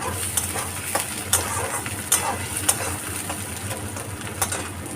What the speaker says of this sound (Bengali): এবার এই টমেটো দিয়ে একটুখানি কিন্তু ভাজা ভাজা করতে হবে।